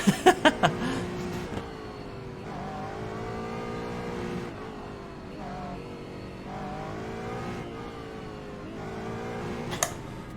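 An Aston Martin GT4 engine in the iRacing sim at the Nordschleife holds a loud, steady drone that climbs and drops through gear changes, with a few sharp clicks at the start.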